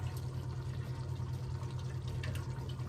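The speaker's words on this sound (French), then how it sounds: "Et encore là, je vais mettre mon bouillon." Broth being poured into a pot in a home kitchen, a steady continuous liquid pour with a low splashy rush, close and alone.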